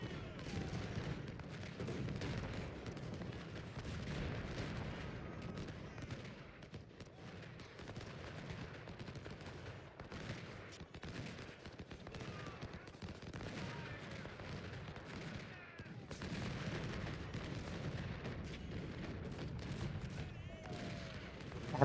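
Cannon and artillery fire from a Civil War battle in Ultimate General: Civil War, a dense, continuous barrage of booming shots and crackling volleys that rolls on at steady loudness for the whole stretch, with no talking over it.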